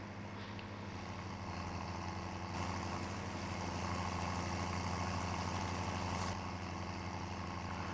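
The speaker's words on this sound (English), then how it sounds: "Nice little tractor this is. Handy little tractor to have, really." A tractor engine idles in the Farming Simulator 17 video game, a steady low continuous drone with a constant hum throughout and no talk over it.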